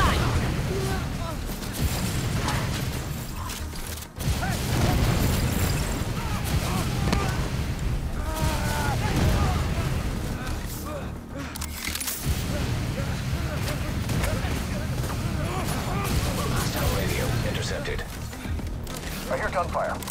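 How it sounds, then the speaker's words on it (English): Sustained gunfire and explosions crackle and boom nearly nonstop in the video game The Division 2, loud and dense, with radio-style voices talking over the combat. "I hear gunfire."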